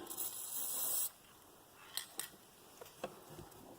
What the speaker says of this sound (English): Spray it up real good.